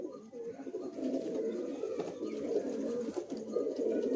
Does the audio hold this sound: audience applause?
no